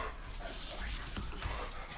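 A hungry pet dog pants and lets out small whimpers close by in a home workshop, short breathy bursts over a steady background hum, with a person talking nearby.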